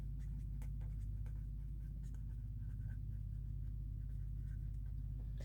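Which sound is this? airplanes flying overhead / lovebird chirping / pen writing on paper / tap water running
pen writing on paper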